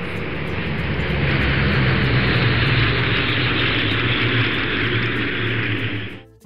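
An airplane engine drones steadily with a broad, rushing roar, holding level for several seconds before stopping abruptly.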